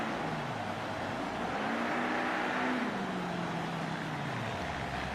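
A monster truck engine drones and revs through a race at the Louisiana Superdome, pitch rising and falling smoothly as it drives, steady and loud, no talk.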